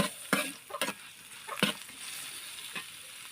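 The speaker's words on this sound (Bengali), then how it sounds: "পেঁয়াজ আর মরিচটা আমি 2 মিনিটের মতন ভেজে নেব।" Chopped onion and chili frying in oil in a pan, heard as a steady sizzle broken by a few sharp scrapes and knocks of a stirring spoon.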